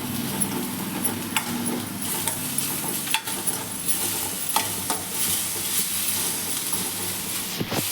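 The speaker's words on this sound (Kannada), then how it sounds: "ಕರಿಬೇವು ಹಾಕಿದ್ಮೇಲೆ ಚೆನ್ನಾಗಿ ಮಿಕ್ಸ್ ಮಾಡ್ಕೊತಾ ಇದ್ದೀನಿ." Curry leaves sizzle in a frying pan while a spoon stirs them, producing a steady hiss with scattered scrapes and light metallic clinks nearby, and no voices.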